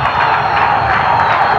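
A steady, loud roar of Al-Hilal football fans in a stadium celebrating a goal against Al-Shabab, a continuous crowd wash with no breaks.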